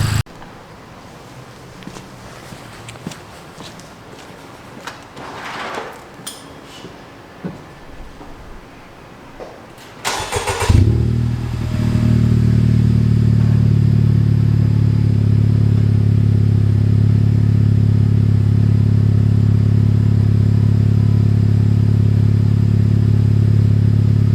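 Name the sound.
Honda Civic Type R FK8 driven around the block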